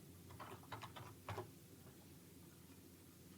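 Quiet burst of quick keystrokes on a computer keyboard, a few irregular clicks in clusters over about a second, then stillness.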